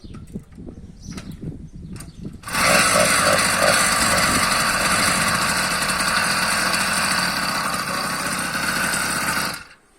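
An 80 cc engine on a European-style motorized bicycle runs at idle, bursting into a loud, steady, buzzing putter after a few seconds of quieter handling noise, then stopping abruptly near the end.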